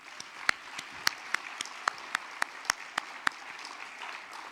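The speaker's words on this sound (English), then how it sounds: "Please give them all a round of applause." Scattered clapping rises at a small business awards luncheon, with a dozen or so sharp, distinct claps standing out over a softer, thin crowd background, fairly quiet overall.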